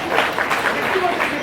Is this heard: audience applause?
yes